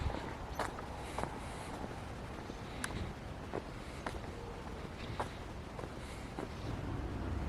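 Footsteps crunch along a hiking trail in the hills of Pacifica, a steady walking rhythm of soft, close steps over a constant outdoor background hiss.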